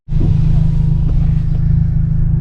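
A Honda Civic Type R or 2022 Subaru BRZ engine, still cold after about fifteen minutes of running, gives a loud, steady low rumble that starts abruptly and holds even throughout, with no voices.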